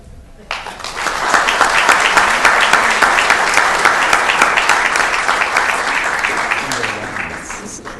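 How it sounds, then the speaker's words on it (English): Audience applause at a city council meeting starts suddenly, then fills the room as loud, sustained clapping with many overlapping hands and a few faint voices underneath. It tapers slightly toward the end. "So I'm going to ask you guys to give him another round of applause for all his years of service"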